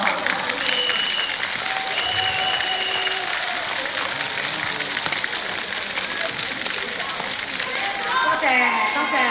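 Loud, dense audience applause fills the hall after a singer performs a song at a family-themed concert, steady and continuous from start to finish with a few faint whistles.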